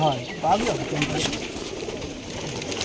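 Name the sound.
pigeons cooing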